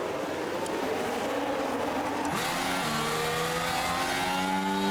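Race cars in a video game of the Chinese Grand Prix in Shanghai roar off the start line together, a dense engine drone that swells into rising acceleration whines partway through, loud and steady.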